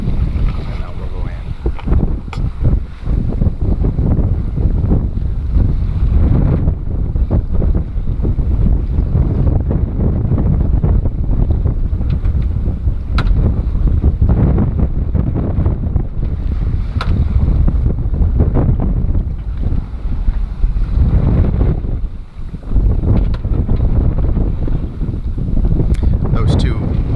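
A sailboat under way near Port Canaveral, Florida, with strong wind buffeting the microphone and water rushing along the hull, loud and continuous, with a person talking intermittently over the noise.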